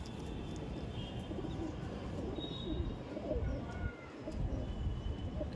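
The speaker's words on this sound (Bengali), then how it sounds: "দেখুন এটা নর পায়রা।" A male pigeon cooing nearby in soft, low, repeated throaty calls over a steady background murmur, with other birds faintly audible.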